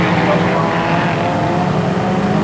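Rallycross cars, including a blue and white Escort, race at Lydden Hill with a dense, continuous engine roar. A commentator talks over the noise.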